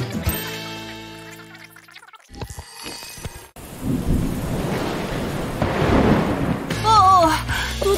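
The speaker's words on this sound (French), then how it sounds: "Dis donc, il pleut des cordes dehors." Heavy rain pours down loudly outdoors with a rumble of thunder, following a stretch of tonal music that cuts off partway through.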